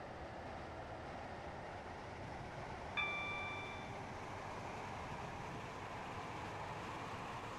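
A Class 331 train runs between Edgemead and Stepford Victoria in a game, with a steady quiet rolling rumble throughout and a brief tonal chime or whine once midway.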